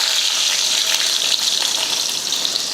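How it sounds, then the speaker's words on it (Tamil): Loud, continuous crackling sizzle of mustard seeds frying in hot oil, a dense hiss up close with no talking. "இப்போ தாளித்து ஊற்றிடலாம் தாளிக்கிறதுக்கு எண்ணெய் ஊற்றிடலாம் கடுகு"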